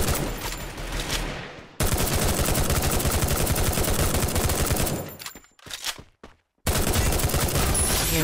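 Rapid automatic gunfire from a bot in Free Fire rattles in long dense bursts, loud and close, broken by brief pauses and a short gap of near silence before firing resumes.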